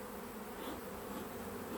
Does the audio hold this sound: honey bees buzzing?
yes